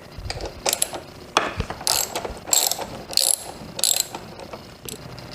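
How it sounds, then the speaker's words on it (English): A hand ratchet loosens a bolt at the rear of the gas tank on a first-generation Yamaha FJR1300 motorcycle, giving close, loud bursts of rapid clicking in short strokes with brief pauses between them. "We're now going to loosen this bolt in the rear of the gas tank."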